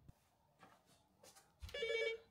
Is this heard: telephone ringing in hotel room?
yes